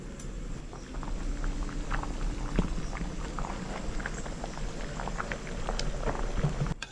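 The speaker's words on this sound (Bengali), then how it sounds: "ডালটা ফুটে এসছে" Moong dal boils in a pot, a steady bubbling and popping with a soft patter of bursting bubbles, close and continuous with no talk.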